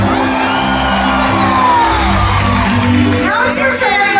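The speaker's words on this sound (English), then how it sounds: "when we see True Love, let's give him a great big cheer" A large crowd cheers, whoops and shouts continuously at a killer whale show at SeaWorld Orlando, loud and close, with children's shouts and an announcer's voice mixed into the roar.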